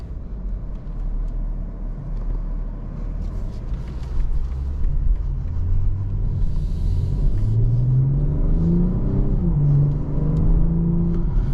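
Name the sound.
2024 BMW M440i coupe accelerating on the road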